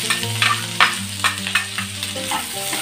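Chopped onion and green chilli fry in a pan with a close, steady sizzle, broken by repeated sharp scrapes of a spoon stirring against the pan, with no talking.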